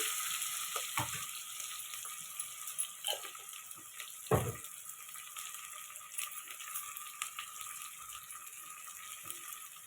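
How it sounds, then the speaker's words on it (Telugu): Onions frying for tomato dal, a steady soft sizzle of hot oil in a pan with occasional clinks and rattles of the utensil, close and moderately quiet, no one talking. "మనకి ఇది మంచిగా ఫ్రై అవ్వాలండి"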